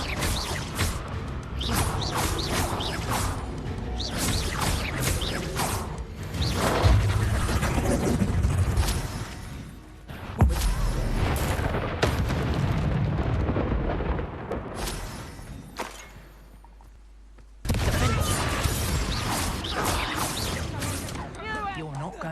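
Confringo fire spells in the Hogwarts Legacy video game go off as repeated loud booming blasts in dense, chaotic combat, with crashing debris and a voice shouting between them.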